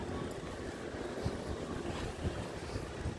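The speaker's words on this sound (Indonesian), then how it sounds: "angin kencang." Strong wind buffets the microphone during an outdoor morning walk with a Golden Retriever, a steady broadband roar with gusty low rumbles throughout and no talking.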